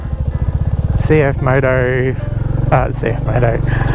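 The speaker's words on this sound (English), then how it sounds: "Royal Enfield Classic 350." A Royal Enfield Classic 350 motorcycle engine runs with a low, even, pulsing thump beneath someone speaking throughout.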